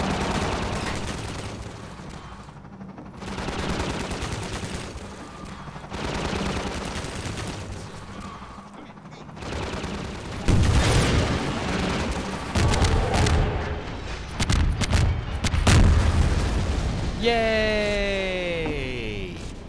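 Half-Life 2 gunship battle on Highway 17: heavy gunfire bursts and rocket blasts thud in waves, followed by a dense stretch of rapid fire and explosions, with a sweeping descending whine at the end.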